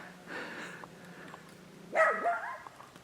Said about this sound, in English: No, don't bark at us.